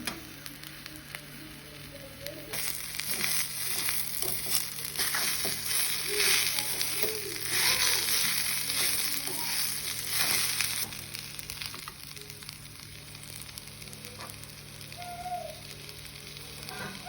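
Potato and onion frying together in a pan, with a loud, crackling sizzle that swells as the potato goes in and is stirred for several seconds, then settles to a quieter, steady frying hiss.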